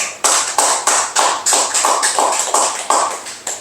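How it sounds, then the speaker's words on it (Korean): A church congregation at a New Year's Eve midnight service claps in unison to welcome the new year, about a dozen loud, evenly spaced rhythmic claps close by with no talking. "박수로 우리가 새해를 환영하도록 하겠습니다"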